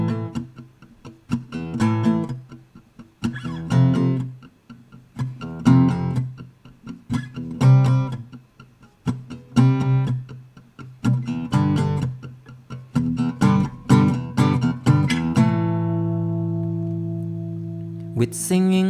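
An acoustic guitar plays a song's pre-chorus with bar chords, in rhythmic strummed bursts and muted chops, ending on a long ringing chord that fades out before a final strum.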